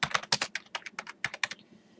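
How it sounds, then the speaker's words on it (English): Quick bursts of keystrokes on a computer keyboard, a dozen or so crisp, close clicks in an uneven rhythm, fairly quiet and heard alone. "so we type Circuit Racer here"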